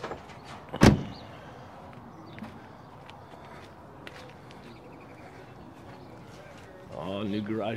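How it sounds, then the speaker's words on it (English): New garage doors being installed at a house: one loud sharp bang near the start, followed by faint knocks and outdoor ambience, with voices talking near the end. "All new garage doors are going up."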